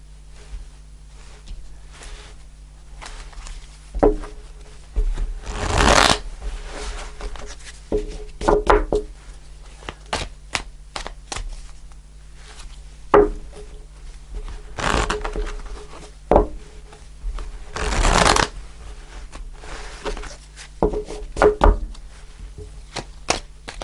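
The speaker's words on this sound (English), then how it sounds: "Pull one more shuffle" Tarot cards being shuffled in repeated bursts of riffling and slapping, with soft handling noises and a low steady hum in between.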